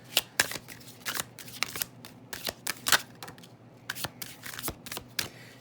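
Tarot cards being shuffled and drawn for a reading, a run of close, crisp riffling bursts and soft card slaps spaced irregularly throughout, with no talk.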